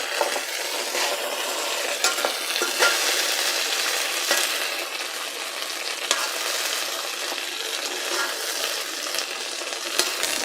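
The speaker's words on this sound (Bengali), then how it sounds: "ঢেঁড়সগুলোকে আমরা কিছুক্ষণ ভেজে নিচ্ছি।" Okra (lady's finger) frying in a pan while being stirred, a dense crackling sizzle with repeated scraping and clinking from the utensil, steady and close throughout.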